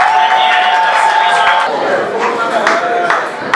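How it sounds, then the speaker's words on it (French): Guests at a civil wedding ceremony raise a loud, close burst of cheering and shouting with claps mixed in, voices whooping over the crowd noise throughout. "Applaudissons s'il vous plaît."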